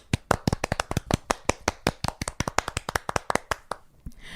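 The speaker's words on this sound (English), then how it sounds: "It says hold for Marcy and Betsy's applause." Brisk clapping from a small group, a quick run of sharp, close hand claps that fades out near the end.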